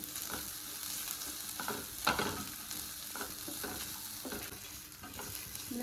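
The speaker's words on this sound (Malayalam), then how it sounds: "എന്നിട്ട് വീണ്ടും ഇളക്കി കൊടുക്കാം" Onions stirred with cardamom and fennel seeds in a pan for chicken varattiyathu: steady frying hiss with repeated scraping stirs, one louder stroke partway through, no talking.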